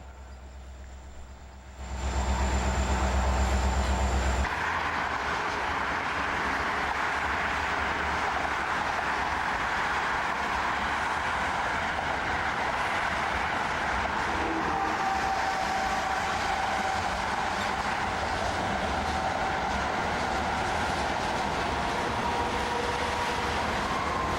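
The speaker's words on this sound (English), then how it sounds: "they got like an engine in the middle of this train" A long Kansas City Southern freight train with a mid-train engine rumbles steadily past at close range, a continuous heavy roll of wheels and cars that begins after a brief quieter moment and holds without pause.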